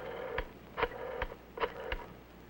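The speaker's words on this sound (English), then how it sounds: "Flip the switch button, then dial a code number and the number you want" Telephone dialing of a code number and a phone number: five short, evenly spaced clicks or pulses, close and fairly faint over a hissy background, with no talk.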